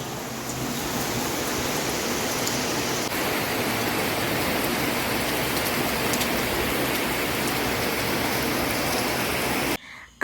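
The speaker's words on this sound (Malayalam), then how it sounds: "ബാക്ക്ഗ്രൗണ്ടിൽ നിങ്ങൾക്ക് അറിയാൻ പറ്റുന്നുണ്ടാവും മഴയുടെ സൗണ്ട് നല്ല രീതിയിൽ കിട്ടുന്നുണ്ട്" Heavy rain pours steadily on a rainy day, a dense, even hiss that stays loud and unbroken for nearly the whole stretch before cutting off abruptly at the end; no one speaks.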